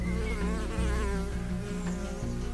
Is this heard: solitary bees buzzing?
yes